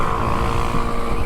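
A vehicle engine revs hard and loud at close range on Avenida Paulista in São Paulo, a steady droning roar with a buzzing, rough tone throughout.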